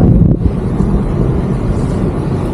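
Steady roaring wind buffets the microphone while parasailing in Boracay, a loud continuous rush with no voices.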